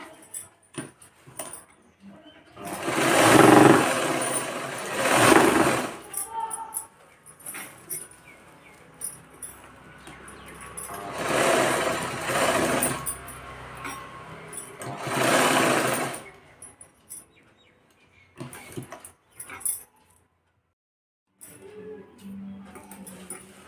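A sewing machine runs in bursts while stitching the pleats of a saree, with several loud whirring runs separated by pauses and quieter handling sounds between them.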